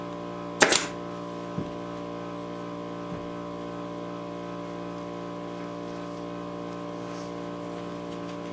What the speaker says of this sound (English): So what I'll do is put a staple on each side of it.